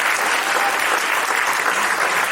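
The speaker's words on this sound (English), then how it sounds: "Yes, another round of applause, please." Steady, loud clapping from a panel audience at the end of a fireside chat on the early history of RTP, many hands blending into one unbroken, close wash of applause with no talking.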